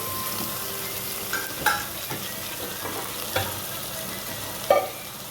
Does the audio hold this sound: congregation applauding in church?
no